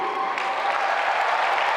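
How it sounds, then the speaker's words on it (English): Sustained applause from a large conference audience fills the room at close range, steady and dense throughout, with no voices over it. "Applause that could be heard as far away as Jerusalem"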